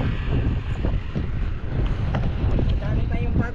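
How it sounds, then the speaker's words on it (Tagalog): Strong wind gusting across an open rice field, a dense, steady roar with heavy low rumble and buffeting against the microphone throughout, with no voices. "Malakas yung hangin."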